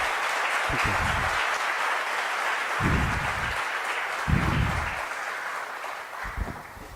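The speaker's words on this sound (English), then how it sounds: "Huge thanks with a huge round of applause for the speaker who could take time." A conference audience gives the speaker a sustained round of applause, dense steady clapping filling the room throughout, with a few low thumps mixed in.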